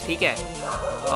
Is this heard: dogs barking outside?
yes